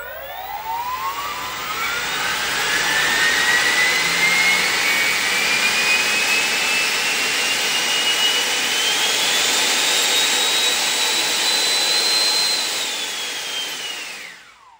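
A 3D-printed 90 mm electric ducted fan jet runs on a bench for an ESC test, a loud steady whine that climbs in pitch, holds high for several seconds, then winds down at the end.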